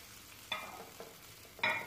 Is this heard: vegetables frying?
yes